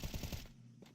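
Mac 10 submachine gun fire in Counter-Strike during a European Pro League match, a rapid burst of close, loud shots lasting about half a second, then a brief fading tail.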